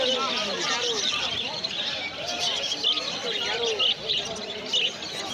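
Caged exotic birds, java sparrows among them, chirp and tweet continuously at a crowded outdoor bird market, the dense twittering layered over a steady murmur of distant crowd chatter.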